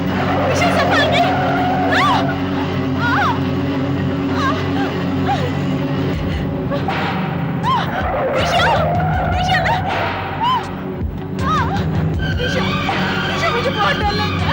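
Car skidding out of control with failing brakes, a continuous loud roar of engine and squealing tires with sliding pitch sweeps, under frightened shouting voices throughout.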